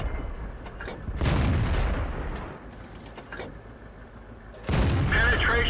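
A tank cannon fires in World of Tanks, heavy booming shots with rumbling tails recurring across the clip, interspersed with quieter mechanical rumble and brief bits of talk.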